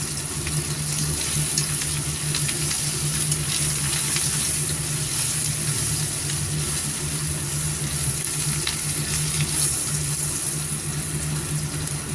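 Shrimp dry-fried in a pan with garlic and salt, giving a steady, even sizzle that runs unbroken and fairly loud throughout, with no voices.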